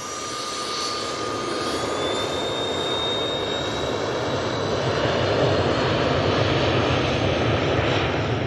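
Propeller aircraft at Manchester Airport producing a loud, steady engine drone with a broad roar that holds throughout and swells slightly toward the end, with no voices.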